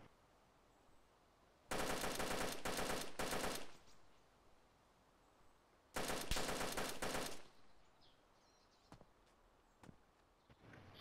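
Gunfire in the survival game DayZ: two long bursts of rapid automatic fire, each lasting about two seconds, loud against a quiet background, followed by a few faint single shots and soft footsteps.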